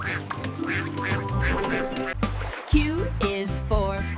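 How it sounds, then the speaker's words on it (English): Cartoonish duck quacks punctuate a bouncy children's alphabet song, short honking calls repeated in quick pairs over music and sung voices. "Q is for quack, quack."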